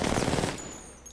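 Automatic gunfire from Apex Legends rattles in a short, dense burst that cuts off abruptly, leaving a faint tail.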